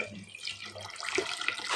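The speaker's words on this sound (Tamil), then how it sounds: "2 சொம்பு தண்ணி ஊத்திட்டு" Water from a pot poured into a vessel of vegetable peels to soak as homemade plant fertilizer, a steady close splashing and trickling that grows fuller toward the end.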